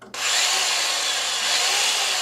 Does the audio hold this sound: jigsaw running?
yes